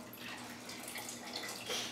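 Water trickles and drips from warm canning jars lifted with canning tongs after processing hot pepper jelly, a soft, steady splashy wash with no talking.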